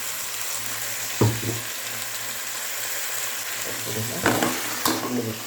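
Drumstick (munakkaya) paste fries in oil with a steady soft sizzle under a low constant hum, broken by a few sharp clatters of a spoon against the pan.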